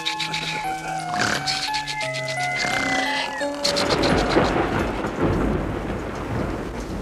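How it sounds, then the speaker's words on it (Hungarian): A thunderstorm breaks with a sudden crash of thunder followed by a steady wash of rain, after a few seconds of melodic tones at the start. "Nem szeretem a vihart, bal szerencsét jelent!"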